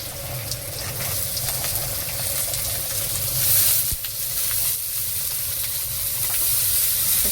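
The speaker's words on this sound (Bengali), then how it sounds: "সবজিটাকে ভাজিয়ে নেব। ভালো করে ভেজে নেব।" Chopped capsicum, potato and beans frying in a pan, a steady close sizzle and hiss running throughout with no talking.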